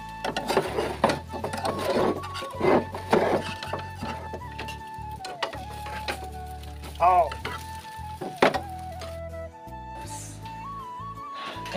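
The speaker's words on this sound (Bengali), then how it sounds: "আমাদের ডিম ভাজা প্রায় কমপ্লিট" An egg fries in a small pan with a soft, steady sizzle under repeated tapping and scraping from a utensil, and a faint whistle-like tone runs through the background.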